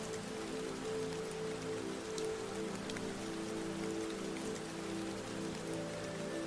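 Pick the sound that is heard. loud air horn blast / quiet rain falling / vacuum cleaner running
quiet rain falling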